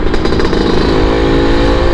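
Yamaha RX King motorcycle engine idling loud and close, a steady throbbing two-stroke burble with a slight rise in pitch, running alone without talk.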